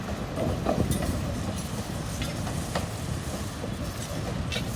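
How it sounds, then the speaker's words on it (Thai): Alsthom 4410 AD24C diesel locomotive hauling train 255 through the junction at Nong Pladuk, with a continuous rumble of passing railcars and faint clicking wheels, moderately distant and steady throughout. "ขบวนก็ผ่านกันไปนะครับ"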